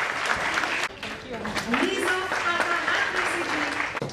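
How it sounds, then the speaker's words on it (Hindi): An audience at an awards event applauds, a dense, continuous clapping from a crowd heard close up, while a voice speaks faintly underneath. "तालियां"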